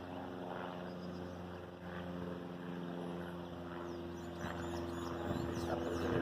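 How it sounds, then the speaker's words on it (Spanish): A Cali Metropolitan Police helicopter patrols the airspace over Siloé, its steady rotor and engine drone holding at a moderate, fairly distant level throughout with no talk. "Helicóptero. Con uno de la Policía Metropolitana de Cali patrullando el espacio aéreo de Siloé."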